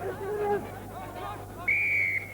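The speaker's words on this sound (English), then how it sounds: "So the whistle goes at the end of the first play" A referee's whistle at a 1989 rugby test match between Counties and France gives a short, fairly faint blast over crowd babble, following a brief earlier tone.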